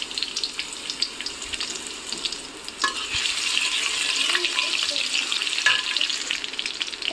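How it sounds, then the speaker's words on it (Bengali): Chopped garlic dropped into hot oil in a pan, a steady close sizzle and crackle with brief stirring scrapes, building slightly louder and continuing throughout. "আমার তেলটা গরম হয়ে এসেছে। এখন আমি রসুন কুচি দিয়ে দিলাম।"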